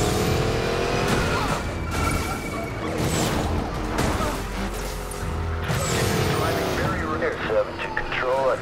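Need for Speed Payback action as a helicopter chases a car, with vehicle engines, crashes and whooshing rumble throughout, loud and busy, with a voice talking over the chaos.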